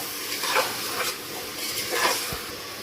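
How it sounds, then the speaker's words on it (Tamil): Carrots, beans and potatoes sauté in a pan for a vegetable biryani, making a soft, continuous sizzle with a few gentle stirring scrapes at intervals, fairly quiet and without speech. "கேரட்டு பீன்ஸு உருளைக்கிழங்கு சேர்த்துட்டு நல்லா வதக்கிடுவோங்க"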